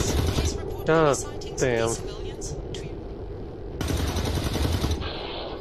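Gunfire in the tactical game XCOM 2 rattles out in sharp, loud bursts and sustained volleys, mixed with shouted voices and a brief spoken exclamation.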